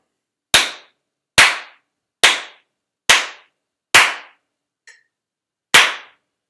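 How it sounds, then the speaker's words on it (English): Single sharp hand claps ring out alone at an even beat, each with a short decaying tail. Five come strong, then one is barely a tap, then a final strong clap. "it's really easy to see how the dynamics work with clapping because it's physical"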